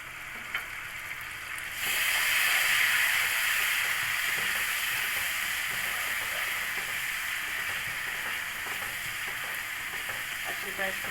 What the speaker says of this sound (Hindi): अच्छी तरह इसको फ्राई कर लें मसालों को।